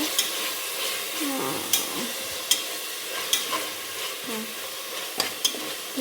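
A tomato mixture frying in a pan is stirred with a spoon, a steady close sizzle broken by intermittent scraping strokes and a few sharp clinks of utensil against the pan.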